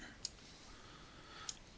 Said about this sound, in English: let me double click and open it